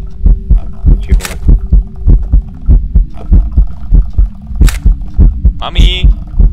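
A steady, loud heartbeat from the video game Phasmophobia thumps in a regular double rhythm throughout, with players talking over it and brief bursts of other game noise.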